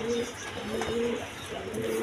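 Pigeons at a wholesale market, breeding pairs with chicks, coo in repeated low throaty phrases, several birds close by and fairly loud, with a faint chirp or two and no talk.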